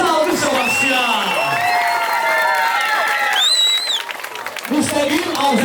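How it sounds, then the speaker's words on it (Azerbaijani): A crowd claps, cheers and whoops loudly at a regional freestyle wrestling competition in Qakh, Azerbaijan, with steady applause and shrill whistles and shouts rising over it for several seconds. "bir özünüzə alqışla başlayaq"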